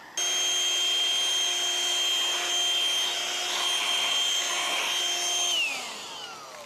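A cordless vacuum cleaner runs close by, picking up crumbs with a steady high whine, its pitch shifting slightly mid-run before the motor switches off and winds down near the end.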